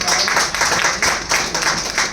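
Applause from the audience at a Rotary Club assembly in Mumbai, a dense, loud burst of clapping that swells in quick waves and carries on without pause.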